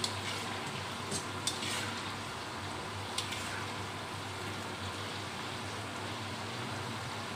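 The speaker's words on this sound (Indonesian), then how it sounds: "Biar tidak nempel harus diaduk-aduk." Sweet banana chips fry in sugar water in a pan and are stirred, giving a steady, soft sizzle broken by a few faint clinks of utensil against pan.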